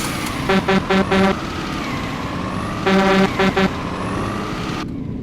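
Heavy truck rolling steadily in On The Road Truck Simulator, a continuous low engine and road drone with a few short tonal horn-like blasts in two groups, close and fairly loud throughout.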